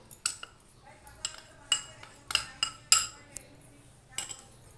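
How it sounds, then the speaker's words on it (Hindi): A metal spoon stirs spice powders and cornflour in a bowl for pakora masala, clinking against the rim in a loose series of sharp taps, close and clear over a quiet background. "फिर मैं इसमें कॉर्नफ्लावर मिक्स कर दूँगी"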